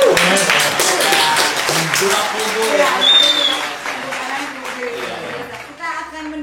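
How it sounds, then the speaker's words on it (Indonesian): Applause from a debate show audience rises loudly at first and gradually thins out while a host keeps talking over it and other voices chime in. "Mohon tepuk tangannya dulu dong"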